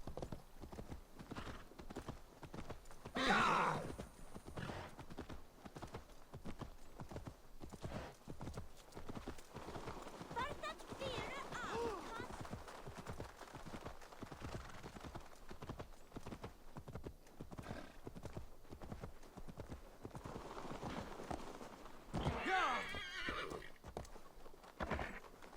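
Horse hooves drum in a steady galloping clip-clop throughout, with a couple of loud whinnies breaking through, while a person talks over it in the video game Assassin's Creed Valhalla.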